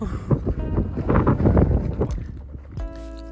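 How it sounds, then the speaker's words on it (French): Gusty wind outdoors in Argentina buffets the microphone with a steady low rumble, rising and falling for a few seconds before easing off near the end. "Oh, il y a le vent."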